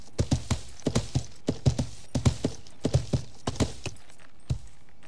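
A horse's hooves clip-clop in the medieval game Life is Feudal: Your Own, crisp close steps in uneven clusters that thin out to a few isolated hoofbeats near the end.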